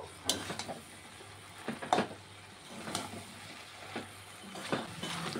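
Taro leaves (tela kochu shak) cooking with vegetables in a pan are stirred with a spoon, giving a few separate clinks and scrapes against the pan over a faint sizzle, close and fairly quiet.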